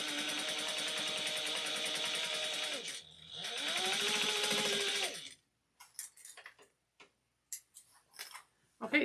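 A sewing machine stitches a tote bag in two continuous runs with a short pause between, then stops, followed by scattered ticks and handling clicks.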